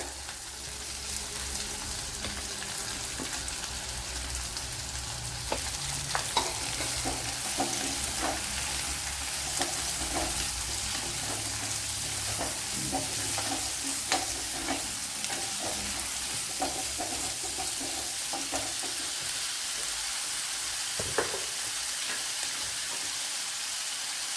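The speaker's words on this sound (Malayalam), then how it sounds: "ഇനി ഒരു സവാള ഇട്ട് കൊടുക്കുക." Sliced onion frying in oil for Andhra-style drumstick sambar, a steady close sizzle with intermittent scraping stir strokes throughout, no talking.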